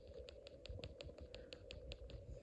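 Regular, evenly spaced clicks from repeatedly tapping the contact point of a Snap Circuits amplifier module, about a dozen quick taps over a constant electronic hum.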